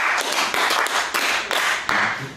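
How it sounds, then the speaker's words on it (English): A poetry slam audience claps in a brisk round of applause, a dense burst of many hands that swells and dips in quick waves before fading. "Give another round of applause."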